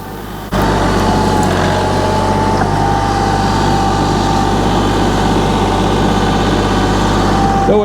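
A tractor engine runs steadily at a low, heavy idle-like drone while pulling a 4-inch cedar tree out by its roots, starting abruptly after a brief quiet moment and continuing loud and close without talk.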